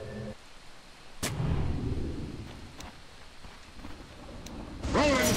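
Rolling Thunder ability in Dota 2 makes deep booming rumbles that swell and fade, with sharp electric cracks striking over them and a final loud burst at the end.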